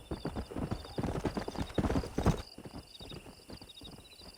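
Horse hooves clip-clop at a steady rhythm in the Western video game Red Dead Redemption, with a whinny among the close, fairly loud steps before a short fade.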